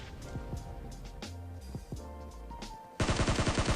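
Gunfire in a battle royale video game, with scattered shots and thuds at first, then a loud, dense burst of rapid automatic fire for the last second.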